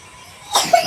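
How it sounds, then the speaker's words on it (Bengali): A person with a cold coughs: a quiet stretch, then a sudden close burst of harsh coughing that lasts to the end. "ঠান্ডা লেগে কাশছে।"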